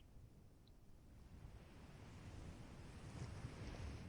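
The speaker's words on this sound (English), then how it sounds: "the steady rhythm of the sea" Ocean surf breaking on a wide low-tide shoreline, a steady broad wash that builds gradually louder, with wind noise mixed in and no voices.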